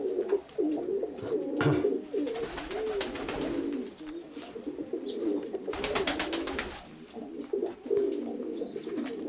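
An old pigeon coos at its nest, with more birds around. Soft, repeated throaty coos carry on through the whole stretch, close by and fairly steady, with no talking.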